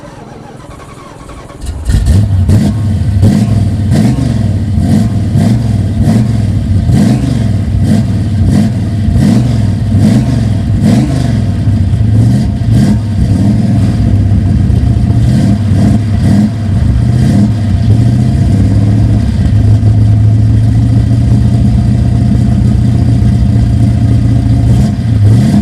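A 1960s muscle car engine starts and settles into a loud, throaty idle, then revs again and again in rhythmic blips close by, staying strong and steady to the end.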